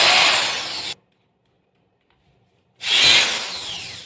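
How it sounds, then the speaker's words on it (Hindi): An Ingco 280W compact electric drill with a bit bores into wood in two loud, close bursts of high whirring and grinding, split by nearly two seconds of silence. "तो दोस्तों इसने बहुत आसानी के साथ में इस वुड के अंदर छेद कर दिया है।"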